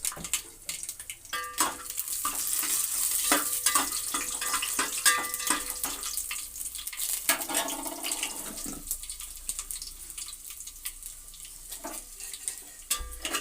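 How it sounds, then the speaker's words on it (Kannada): Urad dal tipped into hot oil after mustard seeds have spluttered, a steady close frying sizzle with stirring scrapes and clinks of a spoon against the pan, no voices. "ಸಾಸಿವೆ ಸಿಡಿದ ಮೇಲೆ ಕಳೆಬೇಳೆ ನೋಡಿ ಕಳೆಬೇಳೆ ಹಾಕ್ತಾಯಿದ್ದೀನಿ"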